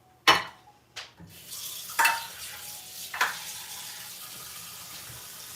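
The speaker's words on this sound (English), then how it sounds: "Start stirring this bitch up." Water being stirred in a pot while making haystacks, with a few sharp scraping clacks of the spoon against the pot over a low, steady bubbling hiss, heard close and alone.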